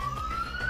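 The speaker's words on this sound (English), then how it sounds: "There's the ambulance!" An emergency siren from an ambulance holds a single rising electronic tone, clear and steady through the short moment, with low background rumble beneath.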